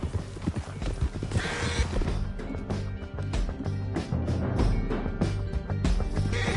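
Galloping horse hooves in the Western video game Red Dead Redemption, a steady rapid clip-clop under tense score and effects, with brief voices calling out.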